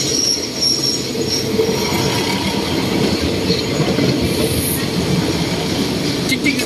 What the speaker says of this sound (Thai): เพราะว่ารถไฟกำลังเข้าสถานีนะครับ